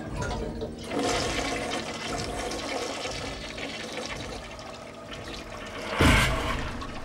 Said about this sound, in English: The toilets used to flush on their own.